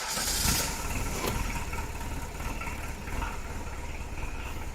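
A Citroen/Peugeot XUD diesel engine idles roughly at close range at zero throttle, a broadband rumble with slight lumpy fluctuations and no talking.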